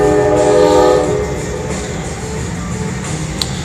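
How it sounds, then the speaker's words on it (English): A city train rolls past close by, a loud steady rumble with a horn-like tone that fades after the first second, leaving a continuous rail noise with a brief click near the end. "Sorry about the train."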